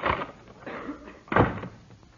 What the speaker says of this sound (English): The door closed.